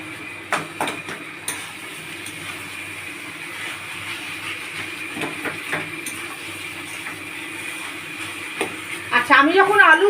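Potatoes go into a frying pan and are stirred while making Punjabi-style aloo paratha, giving a steady sizzle and scraping under a continuous background hum, with a burst of louder clattering near the end.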